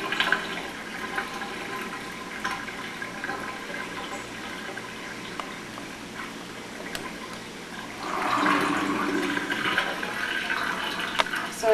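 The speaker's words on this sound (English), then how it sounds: "I'm going to drain the water out" Bleach water drains from a batch of soaking blueberries, a steady low gurgling wash that swells and grows louder partway through.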